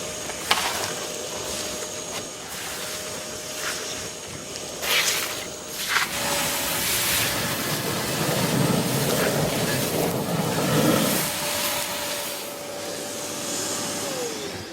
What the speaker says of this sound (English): Seriously, take a look how easily it deals with sludge.